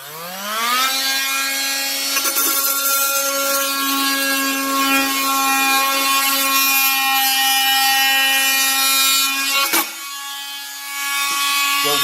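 An oscillating Multinator multi-tool cuts continuously, giving a loud, steady high-pitched buzzing whine that holds almost unbroken and dips briefly near the end before resuming.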